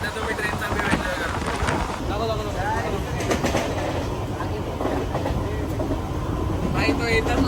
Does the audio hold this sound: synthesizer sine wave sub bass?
no